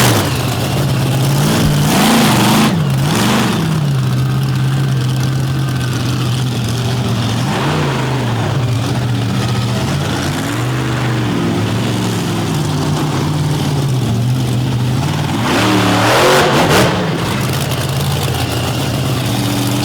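Monster truck engine revving hard in a small indoor arena, with a deep idle surging into repeated loud roaring revs over a continuous low drone.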